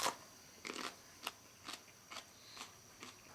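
Teeth bite into a green pepper pod, followed by a run of crisp, evenly spaced crunches about every half second, close and quiet with no talk.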